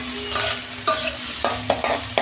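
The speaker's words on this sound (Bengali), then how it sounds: "ভালো করে আমি 2 মিনিট কষাবো" Onion with ginger-garlic paste and tomato being sautéed in a pan, with steady sizzling broken by several sharp scrapes and stirs of a spoon against the pan, close and fairly loud.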